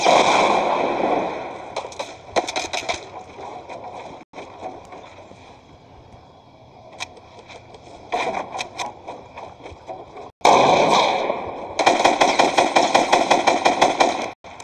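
Rapid bursts of gunfire in the video game Fortnite, loud repeated shots in clusters near the start and again toward the end, with quieter stretches between and busy game sound throughout.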